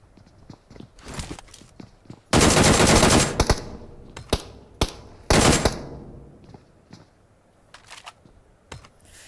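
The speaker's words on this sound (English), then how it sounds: "Firing shots from Team Zen." Gunfire in a competitive battle royale scrim match, loud bursts of rapid automatic fire with scattered single shots and footsteps, heard alone with no talk.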